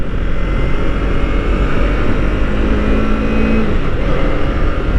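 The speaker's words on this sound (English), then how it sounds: "If I want to overtake this rickshaw, I'll just pop up the throttle and it goes like anything." Kawasaki Ninja 300 motorcycle on a road accelerates to overtake a rickshaw, its engine giving a steady loud droning roar with a rising tone, heavy wind rumble, and no talk.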